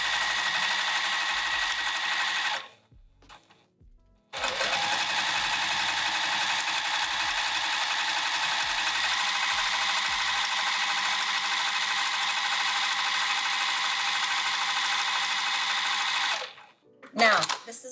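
A sewing machine stitches a long strap for a piped bag, running in a fast, steady mechanical whir for long stretches, with a brief pause early on and a stop near the end.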